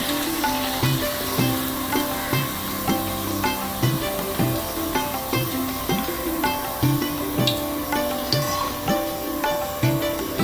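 Sabudana vada deep-frying in hot oil, a soft continuous sizzle and bubbling with faint tonal music playing over it, steady and moderately quiet.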